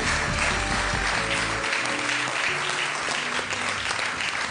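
Applause from a television game show studio audience, loud sustained clapping filling the room throughout, with music and a brief voice underneath at the start.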